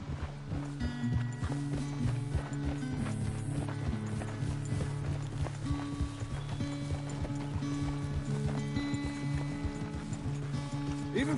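Hooves clip-clop steadily as a horse gallops in Red Dead Redemption 2, with a fast rhythmic beat and music underneath.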